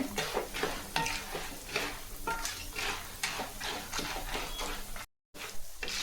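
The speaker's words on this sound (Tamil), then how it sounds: "நல்லா கடலப்பருப்பு உளுத்தம்பருப்பு நல்லா கலர் வர மாதிரி வறுத்து வச்சுக்கலாங்க" A spoon scrapes and stirs chana dal and urad dal as they dry-roast in a pan for temple-style puliyodharai, giving repeated close, gritty strokes over a soft crackle, with a brief gap near the end.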